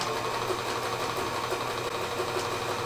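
A domestic sewing machine runs a continuous reverse stitch at the end of a second fabric piece, a steady even whir holding close and level throughout with no talk.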